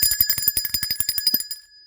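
A bell rings in a rapid run of bright, repeated strokes with steady metallic overtones, loud and close, before ending in a brief silence; no voices are heard.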